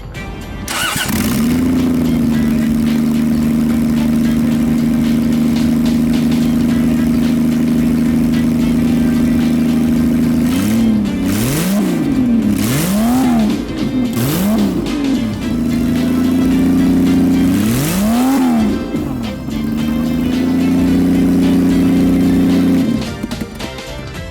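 A boosted 5M engine in a Toyota Cressida MX73 cranks, catches and idles loudly up close, then revs repeatedly in sharp rising-and-falling bursts before settling back to a steady idle and cutting off.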